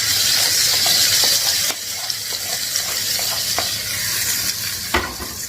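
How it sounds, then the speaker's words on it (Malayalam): Hot green chili tempering poured into curd for Kerala-style moru curry, starting as a loud, steady hiss of sizzling that drops off sharply partway through, followed by quieter bubbling and a few light clinks, close up. "ശേഷം നമ്മുടെ ഈ മുളകുണ്ടല്ലോ നേരിട്ട് നമ്മുടെ തൈരിലേക്ക് ഒഴിച്ചു കൊടുക്കും."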